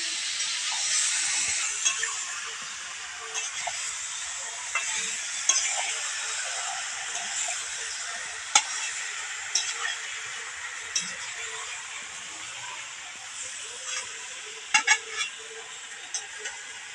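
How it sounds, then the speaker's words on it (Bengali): Chicken sautés in a pan on a stove for biryani, a steady bright sizzle with occasional stirring clicks and scrapes against the pan, fairly close and unbroken, with no talking. "এদিকে উনুনটায় আমি মাংসটা কষতে দিয়ে দিয়েছি"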